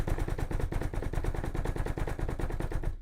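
Someone pounds rapidly on a desk to imitate fast, charging footsteps in a Roblox horror game, producing a loud, close, machine-gun-like string of regular thuds for about three seconds before stopping abruptly.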